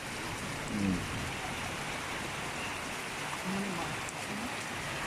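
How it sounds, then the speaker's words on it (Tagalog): Heavy rain pouring in an upland area of Davao, a steady broadband hiss of drops on surfaces throughout, with a few brief voices talking beneath the downpour. "Ulan na kayo, ulan."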